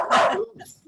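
A dog barks at home after a knock at the door, one loud harsh bark followed by softer yips and whimpers, close by, with a person's voice mixed in.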